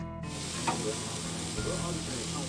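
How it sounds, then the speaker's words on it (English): Seasoned pork country-style ribs sizzle on a grill over moderate indirect heat, a close, steady crackling hiss that starts abruptly and continues without a break. "Seasoned ribs go on the grill over moderate indirect heat."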